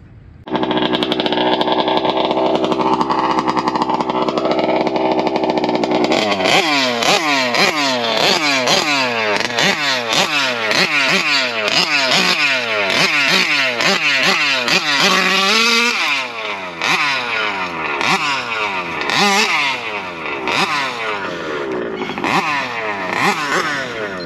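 Taylor 55cc gas-engine RC car runs loud and close, starting with a steady idle drone and then breaking into repeated sharp revving bursts with rising and falling pitch, later settling into uneven throttle blips.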